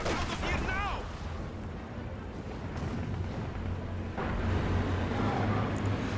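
Incendiary artillery barrage falling on a veteran 81mm mortar position in Company of Heroes 2, heard as a dense, continuous rumble of impacts and fire with a louder swell near the end, under ongoing game commentary.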